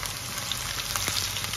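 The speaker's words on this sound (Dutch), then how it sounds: "Dan ga ik mijn zout lekker bakken." Salt frying in a pan alongside garlic and onion while cooking a mackerel tomato dish, a steady close sizzle and crackle with faint stirring scrapes, no voices.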